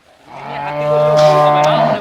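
A dairy cow at a cattle market lets out a single loud, close moo, a rising, drawn-out bellow lasting under two seconds with no other sound beneath it.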